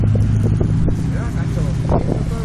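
A rally car rushes past at speed during the Subida Urraki 2012 hill climb, its loud engine roar and wind buffeting filling the moment while spectators talk nearby.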